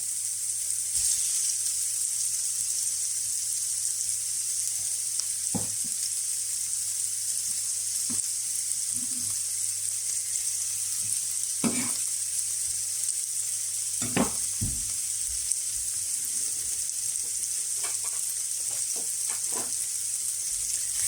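Vegetables dropped into hot olive oil hiss with a steady, bright sizzle throughout, while occasional soft scrapes and taps of stirring break through the frying.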